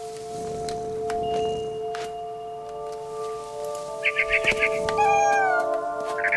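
A cat meowing in the video game What Remains of Edith Finch, a short run of close, bright meows near the end over steady game music and ambience.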